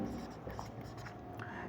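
A board is written on during a chemistry lesson about graphite, with faint, steady strokes heard under a low voice that is talking.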